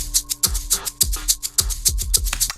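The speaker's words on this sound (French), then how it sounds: "Ici, j'ai un shaker sans ces paramètres de grid," Unprocessed shaker sample in a beat, a rhythmic run of bright shaken hits with a heavy boomy low-end thump under several strokes, repeating steadily over a couple of seconds with no voice.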